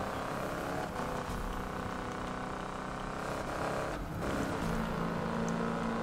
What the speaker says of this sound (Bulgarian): звучи ужасно тази кола, особено с тези 5000 оборота